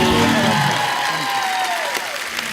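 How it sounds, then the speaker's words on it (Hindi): Studio audience of a comedy talk show applauding and cheering, a dense wash of clapping with voices mixed in, loud and close for a couple of seconds before fading slightly. "जोरदार तालियां"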